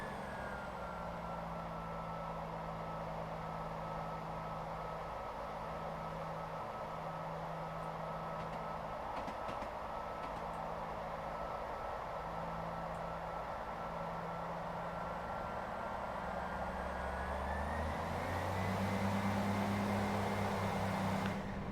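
A video game Class 158 diesel train engine drones steadily throughout, with a faint turbo whistle on top, rising in pitch and revving louder near the end.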